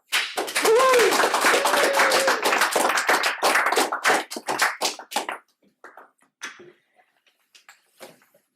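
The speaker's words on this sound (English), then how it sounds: "please, everyone, give a round of applause and an introduction to our speaker for today" Audience applause for a guest speaker at a talk on DAOs, a dense burst of many hands clapping that thins after about five seconds into scattered claps and fades.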